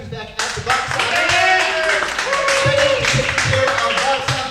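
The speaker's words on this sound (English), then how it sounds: "give a big round of applause for Becca, who's back at the box office." An improv show audience claps and cheers loudly and steadily throughout, with loud voices mixed into the applause.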